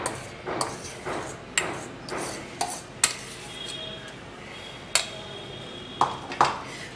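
Potato pancake batter of grated potato, onion, green chilli and coriander being mixed in a bowl, with a spoon clinking sharply against the bowl in irregular knocks and scrapes, close and clear with no talk.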